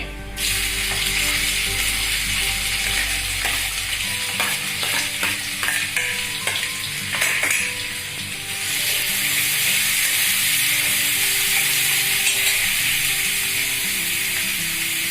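Steady loud sizzling of chopped onions frying in hot oil on low heat, with occasional scraping stirs, continuous throughout and no voices.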